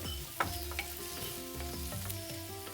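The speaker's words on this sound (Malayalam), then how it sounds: "ഇത്രയും ചേർത്ത് ഒന്ന് വഴറ്റുക" Turmeric, Kashmiri chili and other spice powders sauté with onion in a pan for a Kerala mango coconut curry, a steady close sizzle with a few light stirring knocks and no speech.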